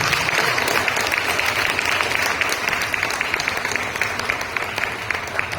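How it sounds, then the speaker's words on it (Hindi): A church congregation claps loudly and steadily, a dense sustained wash of applause filling the room for several seconds with no break. "प्रभु को जोर से ताली बजा के धन्यवाद देते हैं।"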